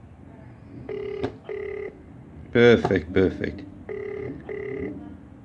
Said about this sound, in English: Ringing perfectly.